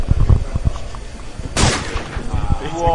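Rapid gunfire crackles through a Call of Duty 4 semifinal match at the Monterrey Gamers 2011 tournament, with a burst of close, loud shots and a sharp blast midway, while an excited commentator talks over it.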